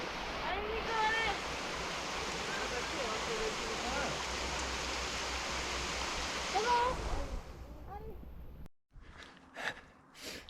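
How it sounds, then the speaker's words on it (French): The Grande cascade de Tendon waterfall in the Vosges, on a trail route, gives a loud, steady roar of falling water for about eight seconds. The roar then cuts off abruptly, and a few faint breaths or voices follow. "c'était bien sympa, cette petite arrivée sur la grande cascade de Tendon"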